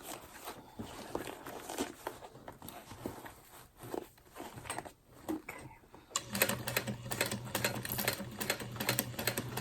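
A sewing machine stitches a handbag in uneven bursts with soft taps and handling noises, then runs faster and steadier for the last few seconds.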